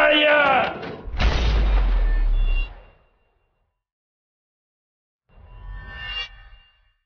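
A burst of gunfire sound effect in a Hindi sci-fi web series action scene, loud booming shots with a heavy low thump, then silence and a second, shorter blast with rumbling tail.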